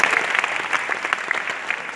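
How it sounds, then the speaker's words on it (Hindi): An audience applauds at a speaking event in Kolkata. Steady, dense clapping from many hands continues the whole time without letting up, fairly loud. "उन सभी के लिए भी एक जोरदार ताली होना चाहिए"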